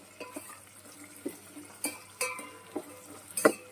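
Cashews and green peas frying in a pan for spinach khichdi, with a soft, faint sizzle under intermittent scraping and clinking of a spoon stirring against the pan, no talking.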